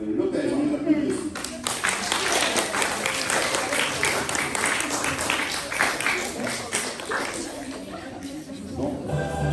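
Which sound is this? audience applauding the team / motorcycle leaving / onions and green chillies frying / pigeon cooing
audience applauding the team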